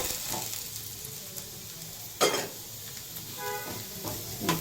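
Spices fry in a hot pan for majjige huli, a yogurt-coconut curry, with a continuous close sizzle and light stirring, plus a sharp clink of a utensil midway and faint kitchen clatter.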